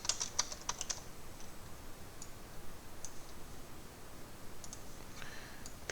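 Someone types on a computer keyboard in a quiet room, with a quick burst of clicking keystrokes at first and then scattered, sparse taps. The sound is close, soft and has no talk over it.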